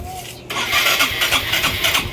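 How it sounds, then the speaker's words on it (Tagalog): A motorcycle engine turns over and catches, then runs with a steady, pulsing rumble close by after a brief quiet moment. "ididikit ko to, tapos i-start ko yung motor"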